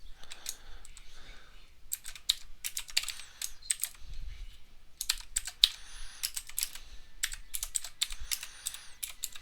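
Bursts of quick, close keyboard typing as C++ code is entered on a computer, clicky keystrokes in uneven runs separated by short pauses, with no talk.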